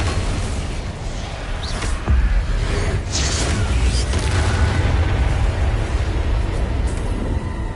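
A Bombarda explosion spell cast in a video game, a loud deep boom with rumbling low-end and swishing effects that persist across the stretch.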